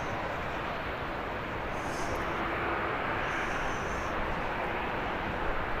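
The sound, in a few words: aircraft flying overhead at Birmingham airport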